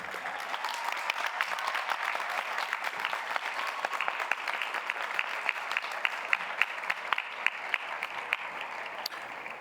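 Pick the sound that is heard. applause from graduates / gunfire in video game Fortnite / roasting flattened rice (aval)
applause from graduates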